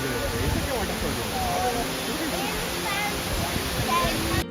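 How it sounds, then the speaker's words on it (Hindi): A waterfall in Coorg on the Kaveri river roars as a steady, dense rush of falling water, close and loud throughout. "झरने के पानी के गिरने की आवाज आपको एंट्रेंस से ही सुनाई देने लगती है।"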